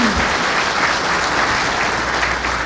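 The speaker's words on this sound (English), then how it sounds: "Please give our Board of Directors a round of applause for their dedication to our industry." Steady, dense applause from a large audience at an industry association awards event, sustained and even throughout, with no talking over it.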